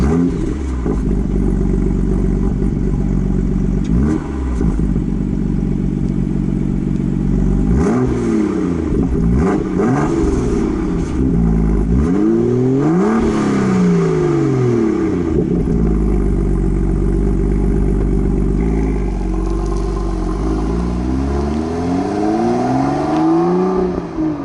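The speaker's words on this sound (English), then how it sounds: "Hope you enjoyed those couple clips of the exhaust outside of the car." A BMW M2 heard from outside as its exhaust is revved repeatedly, loud rising and falling engine sweeps with sharp blips and settling idle between, close and sustained without talk.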